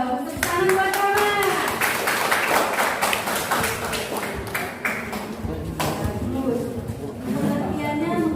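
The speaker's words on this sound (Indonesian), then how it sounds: "Tepuk tangan buat Rahma" A classroom of students claps for a classmate, a dense patter of hand claps that carries on with voices and chatter mixed in throughout.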